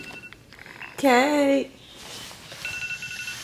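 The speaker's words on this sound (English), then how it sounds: "got an alarm going off for her birthday" A phone alarm goes off with a bright, warbling ringtone burst lasting about half a second, loud and close, surrounded by quiet room tone and brief speech.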